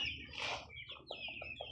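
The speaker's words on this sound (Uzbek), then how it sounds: "Bir-biridan ajoyib anjon qora jo'jalarimiz bor" Andijan black chicks, a breed kept in Yakkabog, Kashkadarya, give short high cheeps and peeps, a brief burst followed by several quick evenly spaced chirps, close and fairly faint with no talking.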